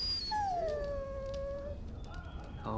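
A dog in the video game Dragon Age: Origins lets out one long, high whimpering whine that slowly falls in pitch, close and clear over a low ambient rumble, with a few faint yips near the end.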